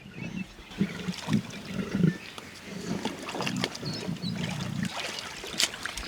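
Animals feeding on a buffalo carcass on safari give low grumbling growls and short squabbling snarls at a moderate distance, in irregular bursts over a quiet outdoor background, with a person talking softly.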